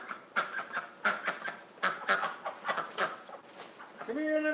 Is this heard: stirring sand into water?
no